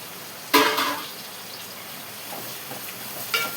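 Curry leaves dropped into hot oil for a tempering, a sudden close burst of sizzling spatter that fades into a low simmering crackle, followed by a second smaller burst near the end.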